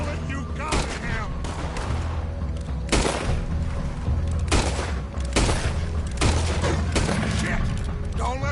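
Repeated gunshots crack out in Red Dead Redemption 2 during a firefight, several loud, sharp reports at irregular intervals over a rumbling, busy background, with voices shouting in between.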